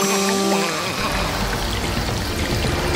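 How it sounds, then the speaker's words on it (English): Cartoon water spraying from a hose onto a ship, a continuous loud hiss and splatter that builds after the first second and runs steadily to the end. "Dr. Spooky, turn off the water when you're not using the hose"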